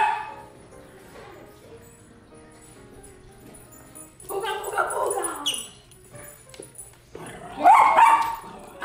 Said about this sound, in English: Kaden, stop messing with the dog.